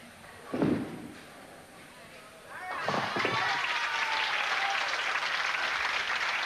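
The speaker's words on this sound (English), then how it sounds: "Acknowledges the applause of the crowd" Crowd applause at a bowling match swells after a couple of thuds and continues steadily, moderately loud, with voices mixed in.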